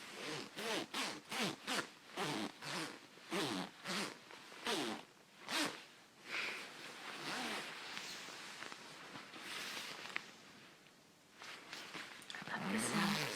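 A coat zipper is zipped repeatedly, giving a rhythmic series of close, raspy zips that slow into a longer continuous pull near the end, with a voice speaking at times underneath.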